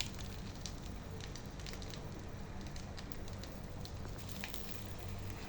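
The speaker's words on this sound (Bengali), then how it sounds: "দেখেন কিভাবে তেল ছাড়া ডিম ভাজি করা যায়।" An egg frying in a pan with no oil at all, a steady soft sizzle and hiss held close and even throughout, with no one speaking.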